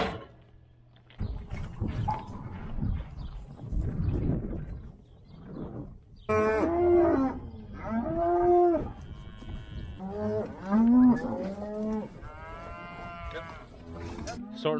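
Cattle bellow and moo repeatedly at a home farm's sorting facilities while being worked through a chute, the calls loud and harmonic in bursts, with scattered handling noise between them.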